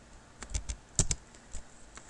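HTML code typed on a computer keyboard, a few close, sharp key clicks in an irregular rhythm with a louder pair of strokes midway, no talking.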